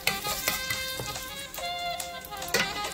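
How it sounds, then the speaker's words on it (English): Diced onions sizzle in a hot pan with a soft, crackling fry, punctuated by a few brief clinks and stirring taps close by. "we're gonna add in the same pan diced onions"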